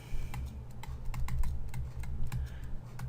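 Quick, fairly close keystrokes on a computer keyboard during a recorded economics lecture on GDP growth, a steady run of crisp taps with no one talking.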